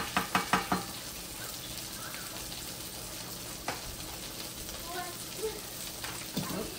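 Chicken, broccoli and sausage stirred in a hot pan make a steady close sizzle, opened by a quick run of four utensil knocks against the pan, with occasional scraping taps later on.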